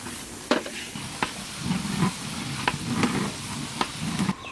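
Spice paste frying and being stirred in a pan for curry, a steady close sizzle with recurring scraping strokes of a spoon across the pan surface.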